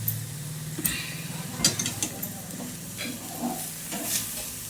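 Sugared carrot halwa stirred in a pan, with soft scraping strokes and a light sizzle coming in irregular bursts, fairly faint and close.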